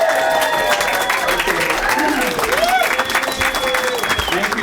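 Audience applause with scattered cheering at a public comment meeting on a bluffs hotel proposal, honouring girls who recited a poem; steady, dense clapping throughout with voices mixed in.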